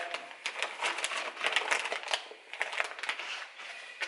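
A plastic bag crinkles and crackles in quick irregular bursts at close range on a workbench as a small ball bearing part from a Lambretta scooter is dropped inside; no voices.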